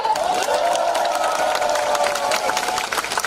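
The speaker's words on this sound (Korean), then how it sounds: "다 함께 박수 한번 보내볼까요?" A crowd at an outdoor Korean presidential campaign rally for candidate Moon Jae-in claps and cheers continuously, dense and loud throughout, with a voice calling out over the noise.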